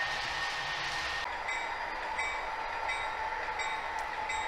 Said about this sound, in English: our northbound train passing the Inver Grove Yard office and entering the yard track